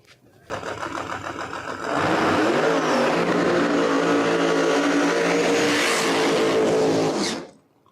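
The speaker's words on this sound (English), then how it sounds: "Paige Coughlin finishes up her burnout" Drag race car doing a burnout at New England Dragway, a Camaro with a ProCharger supercharger, its engine revving up and holding a loud, sustained roar with squealing tires before cutting off near the end.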